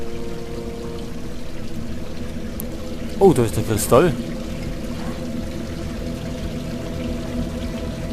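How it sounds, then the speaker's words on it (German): Street water pours into an underground space in a video game, a steady rushing wash that runs the whole time while someone briefly speaks over it. "Das ist das Wasser von den Straßen."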